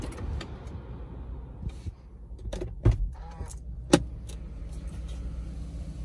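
A Lexus RX450h hybrid's idling engine cuts out, followed by a few clicks, a thump and faint mechanical whirring inside the vehicle; no one speaks.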